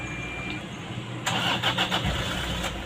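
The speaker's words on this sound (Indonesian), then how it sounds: "Kita akan kembali nyalakan mobil kita ya." A car engine cranks and catches, going from quiet to a steady close idle with a few short revving surges; the engine starts about a third of the way in.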